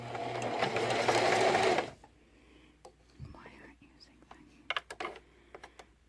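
A sewing machine runs a zigzag stitch on stretch fabric for a two-second burst of loud, close whirring, followed by quiet taps and handling sounds.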